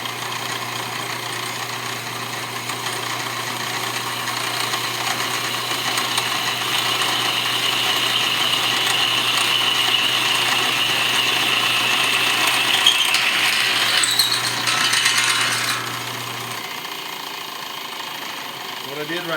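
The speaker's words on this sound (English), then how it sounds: "Drilling the holes in the leg part of the angle iron. So that's what I'm doing now with my drill press." A drill press bores holes in the leg of a steel angle iron, a steady grinding whine over a constant motor hum that rises in pitch near the end before the motor cuts off, with someone talking throughout.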